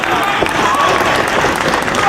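A Ring of Honor wrestling crowd applauds after CM Punk and Samoa Joe's title match: a steady, dense wash of clapping that holds throughout, with a commentator's voice over it.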